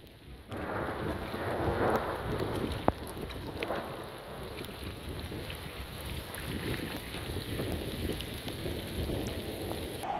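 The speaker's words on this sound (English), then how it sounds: "Oh, that was a bit of lightning." A thunderstorm in New Zealand, with steady rain hissing and pattering on surfaces throughout, a low rumble of thunder and one sharp crack partway through, fairly close and with no talking.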